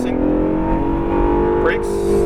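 An Acura NSX sports car accelerates hard on the track at Exotics Racing Las Vegas, its engine note loud and close, rising in pitch under a driving coach's spoken instructions.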